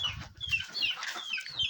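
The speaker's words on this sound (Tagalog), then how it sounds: "Nakikita nyo, nagkakakak siya." A hen about to lay eggs clucks repeatedly up close, a rapid run of sharp clucks and cackles in an uneven rhythm with low background rumble.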